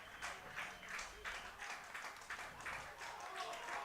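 Baseball crowd at a minor-league game rhythmically clapping in unison to rally behind their pitcher, a steady distant beat of claps repeating under a commentator's ongoing talk.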